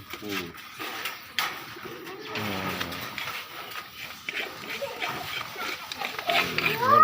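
Pigeons coo repeatedly in low, throaty bursts close by in a backyard pigeon farm, while people talk over them.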